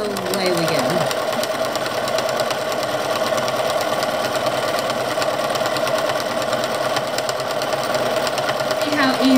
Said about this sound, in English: if you have a walking foot, you can put that down and that makes sure everything's going to move at the same pace. And away we go.